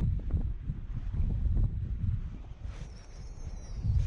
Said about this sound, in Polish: do tego wieje dosyć mocny wiatr